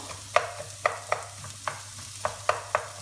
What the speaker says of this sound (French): Et maintenant, je fais revenir mes oignons.